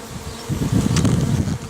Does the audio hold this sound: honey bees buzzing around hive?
yes